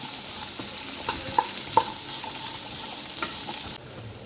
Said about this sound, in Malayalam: ഇനി സ്ക്വയർ പീസായ ഒരു 2 സവാള നമുക്കിതിലോട്ടിട്ട് വഴറ്റിയെടുക്കാം.